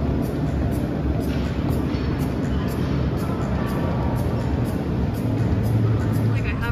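Steady road rumble and tire noise inside a moving car, loud and continuous throughout, with a faint repeating high tick above it and no talking.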